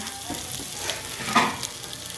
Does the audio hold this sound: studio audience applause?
no